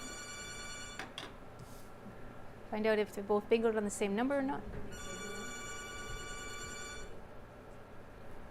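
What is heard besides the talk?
telephone ringing from callers on the phone lines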